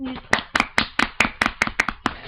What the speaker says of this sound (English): Cup your hand. Yeah, hit your belly button.